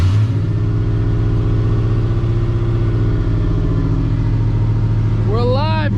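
Chevrolet Silverado with a newly installed Walbro 450 fuel pump, engine running with a steady, loud low rumble and rhythmic throb close by, and a voice cutting in near the end.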